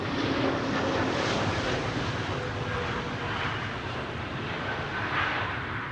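A KLM airliner passes at Amsterdam Schiphol Airport, its jet roar loud and steady for the whole stretch with some wind buffeting the microphone.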